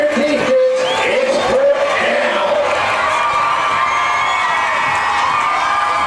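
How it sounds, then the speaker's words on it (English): High school football crowd noise in a stadium, a sustained roar of cheering and shouting at a county rivalry game that stays loud and steady throughout. "And the crowd noise gets the penalty."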